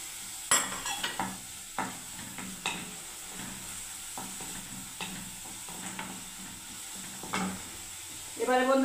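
Ginger paste sizzles and fries in a hot pan while a utensil stirs it, with steady frying hiss broken by scattered scraping strokes and a brief louder burst near the end.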